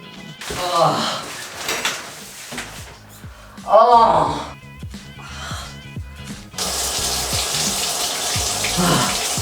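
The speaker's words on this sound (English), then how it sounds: "this is day 2 of my cold shower challenge" Cold water pours from a shower in a bathroom, first with a thud and rustling, then a steady, loud hiss of running water. A person speaks and reacts over it.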